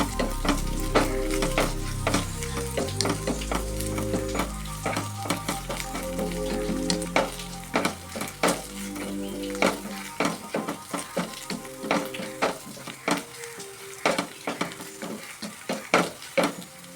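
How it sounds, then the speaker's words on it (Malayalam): Ginger paste stirred and sautéed in a pan while cooking sardines, a steady sizzle with repeated scraping and clinking of a spoon against the pan, turning into sharper rhythmic stirring knocks over a quieter fry toward the end. "ഇഞ്ചി പേസ്റ്റ് ചേർത്ത് കൊടുക്കാം ഇനി നന്നായി ഒന്ന് ഇളക്കുക ഇതിൻ്റെ പച്ചച്ചായ ഒന്ന് മാറി കിട്ടാൻ വേണ്ടി"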